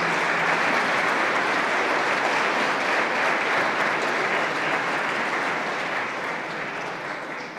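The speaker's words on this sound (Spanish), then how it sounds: "Un fuerte aplauso para todos." Loud, sustained applause from a congregation at the closing night of a novena to the Virgin of Carmen, dense clapping filling the space and tapering off gradually near the end.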